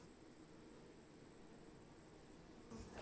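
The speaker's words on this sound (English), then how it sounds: "There's the sound of bees in this area" A faint, steady bee buzz hums continuously at Boyce Thompson Arboretum, like bees swarming nearby, with a thin high whine over low background noise.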